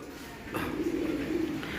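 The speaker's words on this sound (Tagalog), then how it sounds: "may ibon tayo" A soft, low bird coo rises briefly over faint steady background noise.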